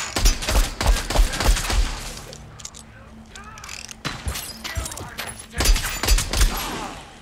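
Bursts of gunfire in the shooter game Scavengers come in rapid clusters at the start and again near the end, loud and close, with a quieter gap of game noise in between and a player's voice talking over parts of it.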